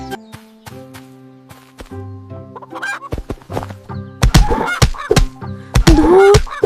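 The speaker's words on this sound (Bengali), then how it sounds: "ওই তো একটা মুরগি দেখা যায়" A cartoon chicken clucking in a village scene, a series of sharp, nasal clucks and squawks over sustained musical tones, growing louder and busier toward the end.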